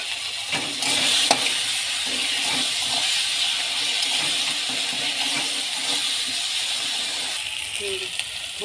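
Ginger garlic paste fries in a hot pan with a steady, bright sizzle and occasional stirring clinks, running continuously at close range.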